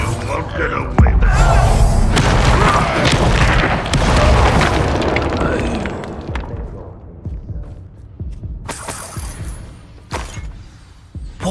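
Bombarda spell explosion in Hogwarts Legacy, a loud deep boom with shattering debris that rolls on for several seconds and fades, followed by further sharp bursts and thuds amid combat effects and spoken voices.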